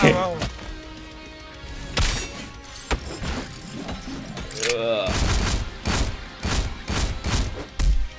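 Pistol shots in the video game Sorcerer Battlegrounds ring out as a series of sharp, loud bursts spaced irregularly through the passage, mixed with game effects and a player talking excitedly over them.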